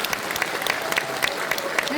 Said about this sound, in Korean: 다시 한번 박수 쳐주십시오.